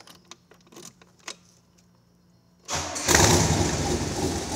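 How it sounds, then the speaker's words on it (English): A 1967 Chevrolet Corvette L71 435hp, unstarted for about five days, gives a few quiet mechanical clicks and thumps, then cranks and fires into a loud, rough, rumbling idle close by. "Let's start it up and take it for a test drive."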